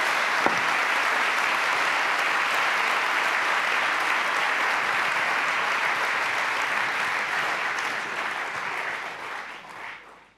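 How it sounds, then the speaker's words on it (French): Warm audience applause at a corporate EY Day event fills the room, holding dense and steady for about ten seconds before tapering off at the end. "Je vous demande de l'applaudir chaleureusement."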